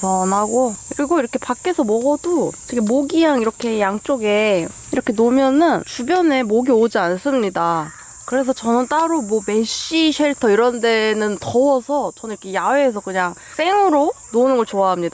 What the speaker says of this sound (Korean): 이게 여름 매미 소리랑 가끔 소쩍새 우는 소리 너무 좋아요.